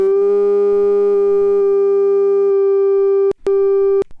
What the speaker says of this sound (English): Just as that sine wave.